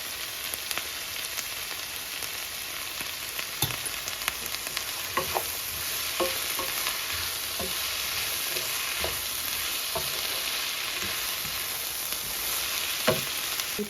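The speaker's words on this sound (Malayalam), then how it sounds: "ഉള്ളി ഒരുവിധം നന്നായിട്ട് വഴണ്ട്, ഒത്തിരി വഴണ്ടല്ല" Onions with a pinch of salt sautéing in oil in a thick pan for Kerala-style prawn roast, giving a dense, constant sizzling hiss with scattered small pops and faint stirring scrapes, close and even.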